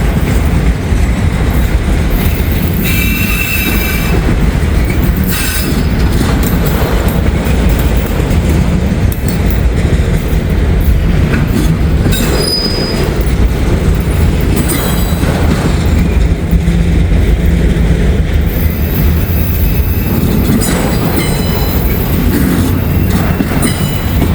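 A train turning off the CSX line in Northern Kentucky rumbles loud and close without letup, with clattering wheels and squealing flanges over the steady roar.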